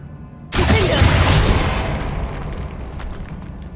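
A Confringo fire spell blasts in the video game Hogwarts Legacy: one sudden, loud booming burst that hits hard and then rolls off into a long, fading rumble.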